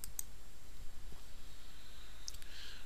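Computer mouse clicking, a couple of faint, crisp single clicks spaced apart over a quiet background hum.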